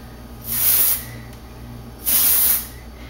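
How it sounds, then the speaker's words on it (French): Dry shampoo from an aerosol can is sprayed onto the hair roots in two short, loud hissing bursts, each about half a second long with a pause between them. "si jamais vous avez une bombe de shampoing sec, et donc spray uniquement"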